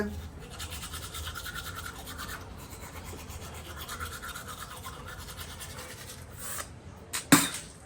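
Teeth are brushed with a toothbrush close to the mic, a steady rapid scratchy scrubbing that continues through the stretch and ends in a sharp clack.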